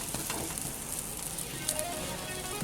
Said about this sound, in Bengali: সাইডে উল্টে আরেকটা পাশে খুব ভালো মতো করে ভেজে নিচ্ছি।